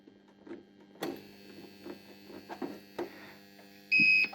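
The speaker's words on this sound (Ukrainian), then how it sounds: "Насос працює від блока безперебійного живлення, який, в свою чергу, працює на акумуляторній батареї." A Grundfos circulation pump runs on UPS battery power after the mains is cut, giving a steady low electrical hum with scattered faint ticks. A loud high tone cuts in near the end; no voices.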